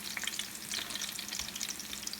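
Latkes sizzling in a frying pan, steady crackling hiss of hot oil with faint scraping as they are turned and pressed down, no voices.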